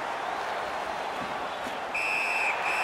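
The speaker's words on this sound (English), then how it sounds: "A whistle and a rest." Referee whistle in the NHL 19 hockey video game during a Toronto Maple Leafs vs Montreal Canadiens match, two shrill blasts cutting through a constant arena crowd roar in the second half.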